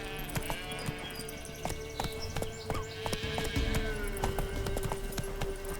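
A horse's hooves clip-clop steadily at a walking pace in the video game Witcher 3, close and clear over a sustained musical drone with occasional faint background voices.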